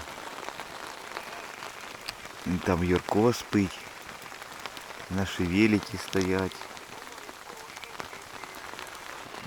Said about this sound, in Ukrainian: це не дощ, це злива